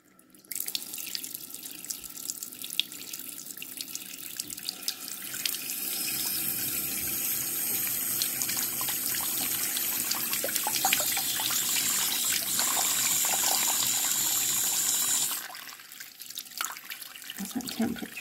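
Water runs steadily from a tap while hair is rinsed during a hair wash, a close, continuous splashing flow that starts after a moment and stops abruptly near the end.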